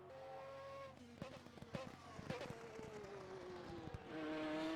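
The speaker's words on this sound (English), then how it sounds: "I'm not sure if I'd call it rattling, but the warbling going down." Race car engine in rFactor 2 dropping in pitch as it slows, with a warbling downshift tone, clicky gear changes and a brief tire squeal, then a rising rev near the end.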